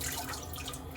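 A razor rinsed under running water from a tap, a steady close splashing hiss with no speech over it.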